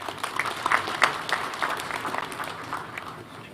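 A graduation-ceremony crowd claps for the university Chancellor, with bursts of scattered hand claps swelling and thinning over a few seconds before tapering off.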